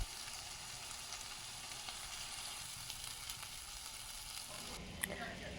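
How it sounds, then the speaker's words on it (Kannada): Spices and a pinch of asafoetida frying in a hot pan for a paddu stir-fry tempering, a steady close sizzle with soft stirring underneath and one sharp clink near the end. "ಕೊನೆಯದಾಗಿ ಸ್ವಲ್ಪ ಇಂಗು ಹಾಕ್ಕೊಂಡು ಎಲ್ಲ ಚೆನ್ನಾಗಿ ಮಿಕ್ಸ್ ಮಾಡ್ಕೊಳ್ಳೋಣ"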